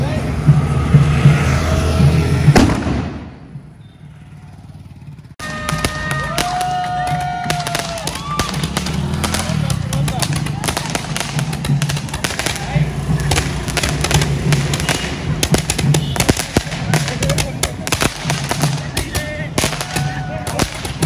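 A sutli bomb firecracker goes off during a Bhim Jayanti street celebration in Bhim Nagar, Dhule, with loud sharp bangs followed by a dense, continuous crackle of noise, crowd sounds and talking.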